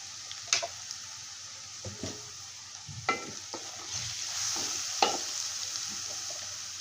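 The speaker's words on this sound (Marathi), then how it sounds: "आलं लसूण भाजत आलं की त्यामध्ये आपला घरचा मसाला टाकून घेते" Ginger, garlic and homemade masala sizzle steadily in a pan, with spoon scrapes and clatters of stirring at irregular intervals, close and alone without voices.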